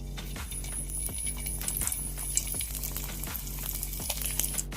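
Pitha frying in hot oil under a steady bubbling sizzle, with regular rhythmic clinks and scrapes as the pieces are turned, close and moderately loud.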